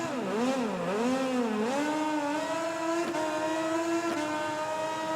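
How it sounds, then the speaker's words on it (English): A motorcycle engine on the starting grid of the MotoGP 20 racing video game revs up and down in wavering swells, then settles into a high steady drone with a couple of sharp blips, close and continuous. "there's Stone revving it up then, as we wait for the lights to go out"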